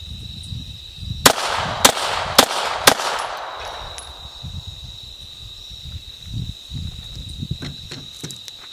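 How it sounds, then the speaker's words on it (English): A Glock 17 pistol fires outdoors in the dark at night: four sharp, loud shots in quick succession, each trailing into a short echo, while crickets chirp steadily in the background. "we're going to shoot Glock 17 right in the center of the frame in the dark"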